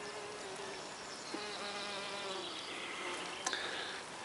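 Mason bees buzzing around nesting tunnels in April, a layered insect drone with individual wingbeats rising and falling as bees fly close, plus a brief click near the end.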